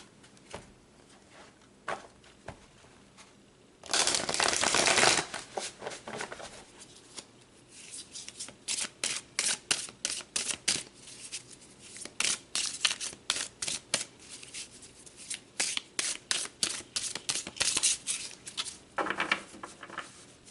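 Tarot cards being shuffled by hand, first in a loud riffle burst and then in a long run of quick, crisp slaps and flicks, close up and steady, with a final riffle near the end and no talk.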